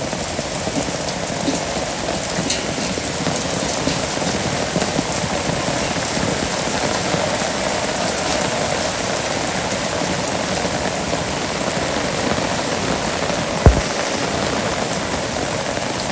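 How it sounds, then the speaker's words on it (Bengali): Steady rain pours down in a Bangladeshi village, a dense, even hiss of drops striking surfaces and pooled water that continues unbroken throughout, with one brief sharp knock near the end. "তাহলে মোটামুটি ভালো বৃষ্টি হয়েছে।"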